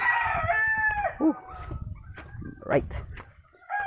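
Stag roosters at a small backyard coop crow close by, one long crow followed by clucks and further short crows, with someone speaking briefly over the birds.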